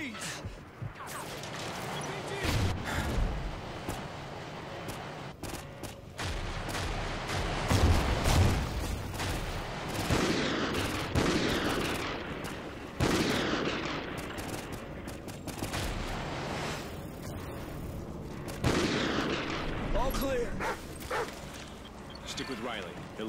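Sniper fire rings out in the Call of Duty: Ghosts campaign, with repeated sharp shots and bursts across a noisy battlefield while voices talk over the action.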